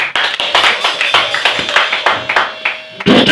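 A crowd applauds with loud, close, regular rhythmic claps that keep an even beat for about three seconds before a brief pause and a final burst.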